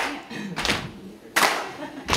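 Hand pats or claps struck during a song performance: three sharp broadband hits spaced irregularly, fairly close and moderately loud, over a quiet background with no talking.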